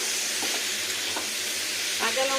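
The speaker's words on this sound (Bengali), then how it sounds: "এটাকেও ভাজতে হবে, এখানে স্মেলটা আসবে যখন, তখন ততক্ষণ পর্যন্ত ভাজতে হবে।" Mung dal frying in a hot pan with green chilies, a steady close sizzle and hiss with a few brief stirring scrapes, and a faint voice in the background.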